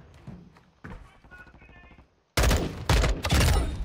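Shooter video game gunfire, loud bursts of automatic fire in quick clusters that follow quieter in-game chatter and radio voices.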